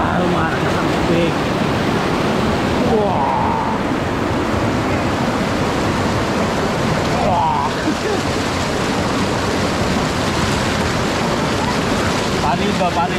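The Marcos River in Brgy. Cawayan, Calinan, Davao City rushes loudly and continuously, a dense close roar of flowing water with wind buffeting the microphone and faint voices underneath.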